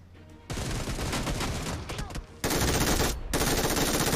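Rapid automatic fire from an AUG assault rifle in the BGMI mobile battle royale game, dense, loud bursts of gunshots with a short gap between them.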